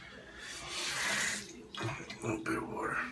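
Tap water runs briefly to wet a shaving lather for a straight razor shave with a RazoRock Freedberg, a steady broadband hiss swelling then easing, followed by splashy water handling under a voice.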